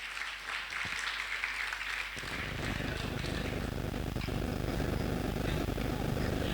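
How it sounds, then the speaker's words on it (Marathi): Audience applause at a Maratha Seva Sangh Jijau Jayanti celebration held by the Zilla Parishad Solapur branch, a dense steady clapping that swells after the first two seconds and continues loud throughout. "जोरदार टाळ्या आपण देऊयात"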